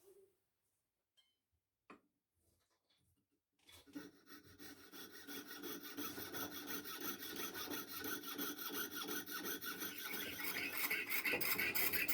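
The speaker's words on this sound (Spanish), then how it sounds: "Ahora calamos esta circunferencia." A jeweler's saw cutting a metal disc for a solitaire ring, a few faint taps first, then steady close rhythmic rasping strokes building louder and continuing to the end.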